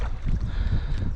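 Wind picks up over a lake during a spring duck hunt, a steady low rushing roar with gusty buffeting against the microphone, no voices present.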